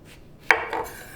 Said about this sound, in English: Now we cut eggplant over here